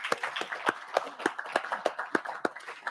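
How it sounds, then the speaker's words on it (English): Applause in a House Finance Subcommittee hearing room: a few hands clap in a brisk, fairly even rhythm, close and sparse, without voices. "let's give these folks a round of applause"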